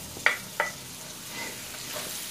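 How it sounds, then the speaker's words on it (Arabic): Meat frying with garlic in a pan: two sharp scraping clicks of stirring early on, then a soft, quiet sizzle that lingers and gently rises toward the end. "هلا بقى نقلي اللحمة"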